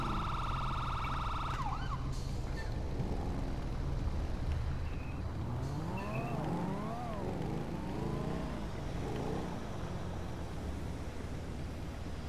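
An ambulance siren wails in Grand Theft Auto V, its rising and falling tone sweeping repeatedly through the middle of the clip over steady engine rumble, loud and close, with no voices.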